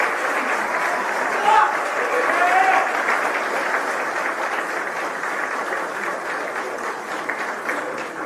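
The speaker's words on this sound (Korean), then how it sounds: "뜨거운 박수 부탁드립니다." Delegates at a financial workers' union meeting applaud steadily for several seconds, a dense wash of clapping with occasional faint voices in the hall.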